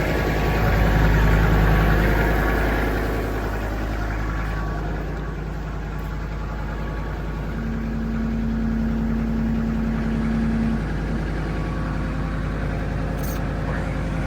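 Homemade log splitter engine held at a steady rev just past 1,000 rpm, a loud, continuous low throbbing drone with a faint tonal hum, no speech over it.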